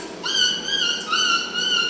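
A person imitates a dog with the voice, giving two or three loud, close, drawn-out yelping calls in quick succession, with no other sound around them.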